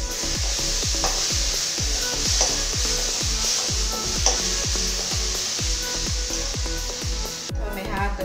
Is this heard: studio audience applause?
no